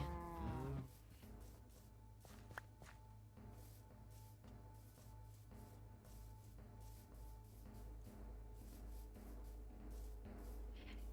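Cows moo in a Minecraft world, a low drawn-out moo opening the clip, followed by quiet game ambience with repeated soft tapping sounds.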